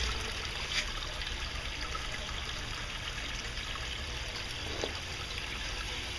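Water from a gold prospecting classifier box trickling into a recirculating tub, a soft continuous splashing dribble heard close by with no voices.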